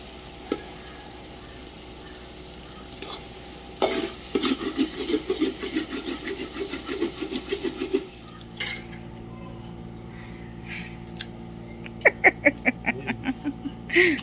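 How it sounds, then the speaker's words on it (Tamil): Mutton simmering in a pot over a wood-fired village hearth for biryani, with metal utensils scraping and clinking against the vessel in bursts, a soft sizzle underneath, and a run of sharp taps near the end. "கொஞ்ச நேரம் வெந்த மட்டன் இன்னும் கொஞ்சம் வேகமா ஓகே வேகட்டும்"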